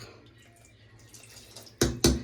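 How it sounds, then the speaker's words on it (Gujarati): Water poured into a pan of Kathiawadi stuffed brinjal curry, heard as two loud, short splashing bursts near the end after a quiet kitchen background. "જો ગાઈસ આ રીતના પાણી નાખવાનું."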